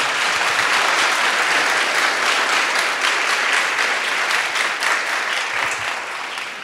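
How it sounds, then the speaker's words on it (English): An audience at a prize event applauds steadily for several seconds, a dense roomful of clapping that fades a little toward the end, with no talk. "We have a round of applause for some of the teams that are here"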